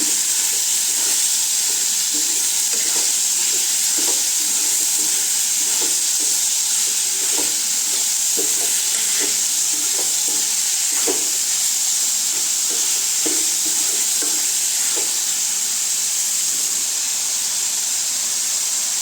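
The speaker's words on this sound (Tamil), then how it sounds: "நல்லா அந்த எண்ணெயிலே கொஞ்ச நேரம் நல்லா பரட்டி விடலாங்க" Chicken liver fries in oil in a pan, giving a loud continuous sizzle and hiss with faint stirring taps throughout and no speech.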